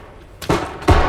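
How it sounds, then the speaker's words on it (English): Two heavy shotgun blasts from enemies in the video game Bodycam, loud booming reports about half a second apart, close and without talk. "Oh, they're shooting me."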